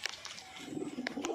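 Pigeons, including a closed-tail pigeon, give soft, low cooing close by, with a few faint higher chirps from other birds in the background.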